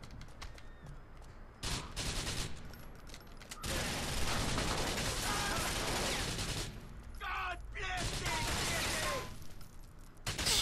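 Gunfire from GTA 4 crackles in dense bursts of rapid shots with brief gaps between volleys. The shots sound fairly faint and are mixed with clattering, mechanical game noise.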